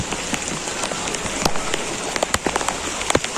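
A steady Chennai downpour during flooding hisses without pause, with sharp, irregular drops smacking a nearby surface throughout.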